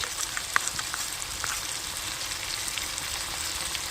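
Chicken sautéing in a pan for chicken dopiaza gives a soft, even sizzle, with a few faint pops and crackles and no other sounds.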